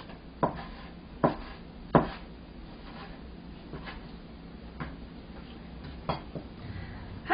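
A knife cuts a fish fillet into 1 cm pieces for Chinese sweet-and-sour fish, giving about six sharp, close chops at uneven intervals over a quiet background.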